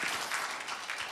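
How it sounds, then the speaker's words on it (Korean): Congregation at a Korean church service applauds briefly and steadily, a faint, even wash of clapping from a room full of worshippers. "박수 한번 하십시다"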